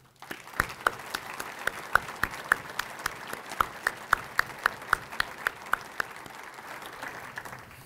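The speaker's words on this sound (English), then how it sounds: "with a round of applause" A modest room of people at a State of the City address applauds steadily, individual claps distinct and evenly spaced, moderately loud, with no voices over it.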